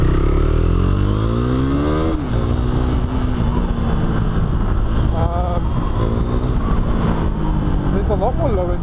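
Riding a BMW F900XR motorcycle gives a loud, close engine drone with wind rush, the pitch rising and falling through gear changes and bursts of revving.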